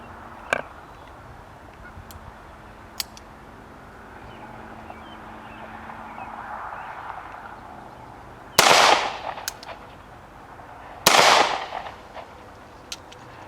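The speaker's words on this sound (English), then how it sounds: "we'll fire a few rounds out of it." Two sharp, loud gunshots from a Bond Arms Back Up .45 ACP pistol crack out a few seconds apart, each followed by a short decay, with faint clicks and quiet outdoor background between them.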